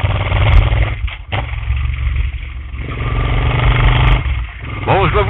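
Suzuki Intruder VL 800 motorcycle engine running loud and steady with a low rumbling drone, briefly dipping and revving back up, with a rider talking over it throughout.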